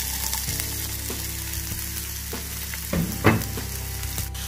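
Chopped onions sizzle and crackle in hot mustard oil with a steady fry, punctuated by a few soft clinks and stirring sounds close by.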